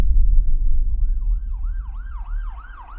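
An ambulance siren wails in a repeating rising-and-falling sweep that grows louder and clearer as it goes, heard over a heavy low rumble of traffic or engine noise, with no talking.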